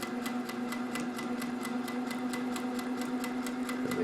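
Sewing machine running steadily while stitching a cotton face mask, a continuous motor hum with fast, regular ticking of the needle throughout, close and even, no voices.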